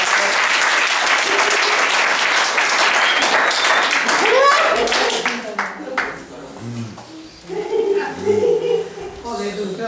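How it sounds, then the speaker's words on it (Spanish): An audience bursts into loud, dense applause that fills the first half, then thins into scattered claps and fades as voices and shuffling take over in the room. "¡Un aplauso!"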